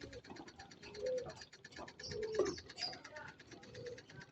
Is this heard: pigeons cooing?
yes